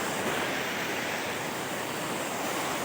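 Steady rushing water from a dirty river flowing behind a house in North Caloocan, a continuous broadband wash heard alone with no voices.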